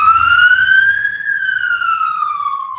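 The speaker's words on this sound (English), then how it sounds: "Sorry about the siren" An emergency vehicle siren wails loud and close in one long rising-then-falling sweep, with faint low rumble beneath.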